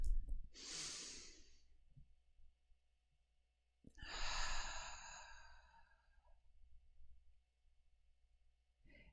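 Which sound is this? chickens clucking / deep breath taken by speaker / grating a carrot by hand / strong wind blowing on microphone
deep breath taken by speaker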